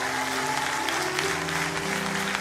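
Congregation applauding during a lively church worship service, dense sustained clapping filling the space with a steady wash, mixed with some held musical or vocal tones underneath.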